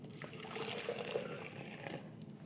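Hot water pours steadily into a French press of ground coffee, a continuous close liquid splash and trickle holding even for about two seconds before easing off.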